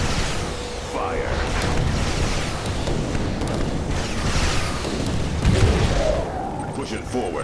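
Artillery fire and explosions in Command and Conquer 3: Tiberium Wars boom and rumble in a dense, continuous battle din, mixed with unit voice lines speaking over the combat.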